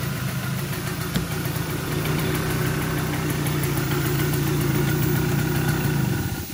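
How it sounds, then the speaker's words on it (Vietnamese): A Simson S51 motorcycle with IC electronic ignition idles after a single kick start, a steady, loud, close putter with a slight knocking vibration and no talk. "Xe lên điện bình IC rồi anh em, chỉ đạp nhẹ phát nổ ngay, không phải đạp phát thứ hai luôn nhá."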